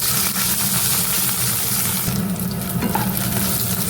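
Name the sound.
drumstick (moringa) pieces frying in oil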